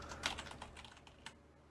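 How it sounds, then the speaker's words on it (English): Quick bursts of typing on a computer keyboard, soft and slightly distant, with irregular clusters of key clicks over a faint background hum, alone without talk. "me typing in the background"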